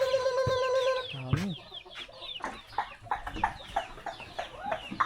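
Chickens and chicks clucking and peeping close by in a farmyard, with a cluster of high chick cheeps followed by a run of repeated clucks.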